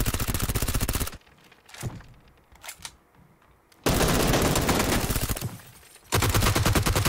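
Vector submachine gun firing in a first-person shooter game, rapid full-auto bursts, close and loud, broken by a pause full of faint clatter before two more long sustained bursts.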